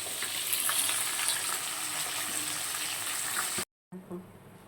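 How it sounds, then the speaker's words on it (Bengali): Black cumin seeds crackle and sizzle in hot oil for tempering, a steady bright frying hiss that holds for a few seconds, then stops abruptly before a softer stir resumes. "একটু কালো জিরে ফোড়নে দিয়ে দিলাম।"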